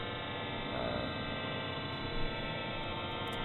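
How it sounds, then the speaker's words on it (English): Many synthesized sine waves from SuperCollider, each with its own random amplitude modulation, form a steady dense drone of stacked tones at a constant level, alone. "each individual sine wave has a sort of unique random amplitude modulator going on"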